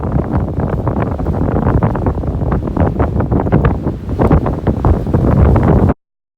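Strong wind on the Picacho Peak mountain ridge buffets the microphone with a loud, continuous rumbling roar that stops suddenly near the end.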